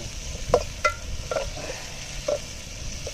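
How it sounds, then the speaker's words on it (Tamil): Onion, tomato and green chilli with masala powder sauté in a pan, a soft continuous sizzle broken by several clinking stirs and scrapes of the utensil against the pan. "நல்லா தாளிச்ச பண்ணு நல்லா வதக்கு"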